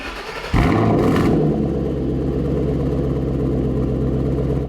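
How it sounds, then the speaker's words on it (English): Ford Mustang fitted with an AWE Touring Edition stainless steel axle-back exhaust starts up and settles into a deep, steady idle rumble, close and loud, with a brief rev at ignition. "at idle, definitely a similar tone to the track, but quieter."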